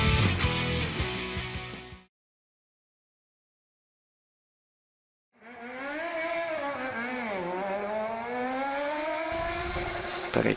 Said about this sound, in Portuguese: Peraí que passou uma moto aqui.